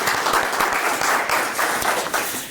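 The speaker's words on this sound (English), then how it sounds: "Round of applause for Diane Burns." Audience applause at an annual memorial lecture, a steady round of clapping from a seated crowd with distinct individual claps audible throughout, continuous and fairly close, without speech.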